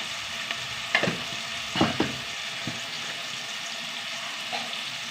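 Tomatoes sauté in a pan under a quiet, steady sizzle, while a few distinct spatula scrapes and clatters stand out near the start.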